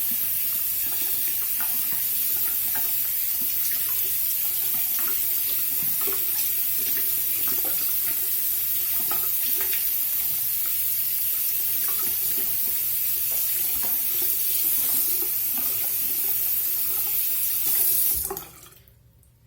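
Tap water runs steadily and close into a sink while a makeup brush is rinsed clean of suds; the rush is continuous and loud, then cuts off abruptly near the end.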